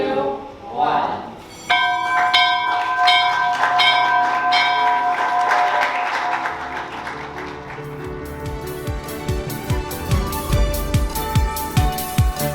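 A closing bell at the MIAX stock exchange rings out in a long run of loud, rapid metallic strikes, then gives way to applause and cheering from the people gathered there.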